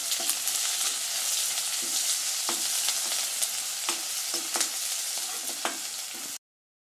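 Garlic and curry leaves sauté in hot oil in a pan for a potato masala. A loud, continuous sizzle is broken by sharp scraping clicks as a spoon stirs against the pan, with no talking.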